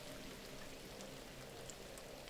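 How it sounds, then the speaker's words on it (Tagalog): Faint, steady rainfall hisses softly throughout, a continuous wash of drops with no other sounds. "umuulan na ate."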